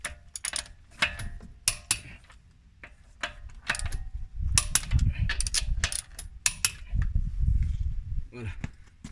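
Ratchet tightening wheel nuts on a Nissan Qashqai gives off bursts of sharp, rapid clicks, several clusters separated by short pauses, close and crisp over a low background.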